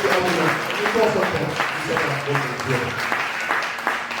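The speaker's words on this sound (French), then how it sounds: "Est-ce que tu peux acclamer la parole de Dieu?" A church congregation applauds in a steady, dense wash of clapping that fills the whole clip, with voices and cheering mixed in throughout.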